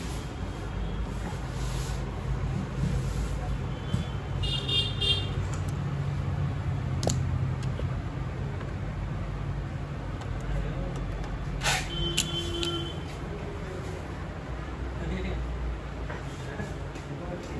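A PSAW laboratory water bath's circulation pump runs with a steady, even hum and whir, with water circulating through the bath. The sound stays continuous and moderately loud for the whole stretch.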